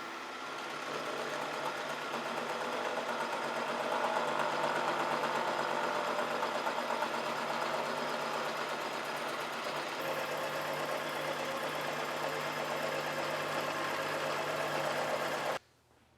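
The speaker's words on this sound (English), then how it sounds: "I'm gonna go to the milling machine and we'll see if we can deck that down just a little bit" A milling machine decks down a part from a Monarch 612 lathe compound, giving a steady, loud, continuous machining whir and vibration that runs unbroken for about fifteen seconds before cutting off abruptly near the end.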